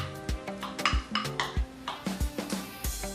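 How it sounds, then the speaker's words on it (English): Sautéed ham and onion mixture going into a frittata pan over the cooking egg base, heard as a series of close clinks and scrapes of a utensil against the pan with a light sizzle underneath. "now we can add the ham and onion mixture, which we sauteed for 5 minutes on medium-low heat"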